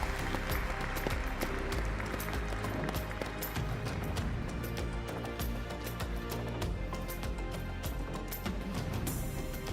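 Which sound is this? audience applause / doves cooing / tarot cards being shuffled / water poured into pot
audience applause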